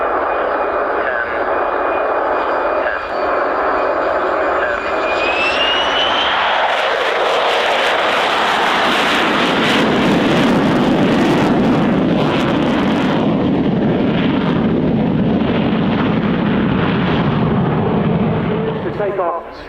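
A Lockheed U-2S spy plane's jet engine whines steadily, then rises in pitch and swells into a loud, broad roar as the aircraft takes off. Wind buffets the microphone throughout.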